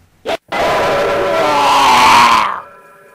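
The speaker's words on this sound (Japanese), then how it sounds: "鈍い音とともに高い悲鳴が響き渡りました。" A short dull knock from a heavy, hard walking stick struck against an old gentleman's face, followed almost at once by a loud, high, sustained scream that holds for about two seconds before cutting off.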